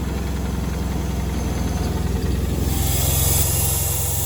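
A John Deere 420 garden tractor engine runs steadily near the microphone, a throbbing mid-pitched idle that rises into a brighter, louder tone as the throttle comes up near the end, with no talking.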